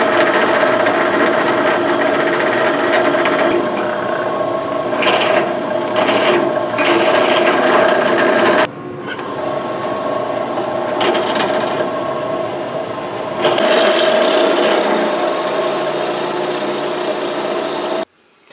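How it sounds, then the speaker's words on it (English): A small step drill bit grinds steadily into steel pipe with a loud, sustained whine, stopping briefly midway and then resuming before cutting off at the end. "drilling this pipe did not work out"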